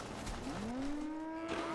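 Cattle moo in the video game Fallout 76, a single long, loud, drawn-out low call with a rising then steady pitch, heard alone without talk.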